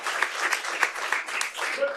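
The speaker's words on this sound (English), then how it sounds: "give yourself a round of applause" A small group at a city council meeting gives brief applause, a sparse patter of separate claps near the microphone that thins out toward the end, with some voices mixed in.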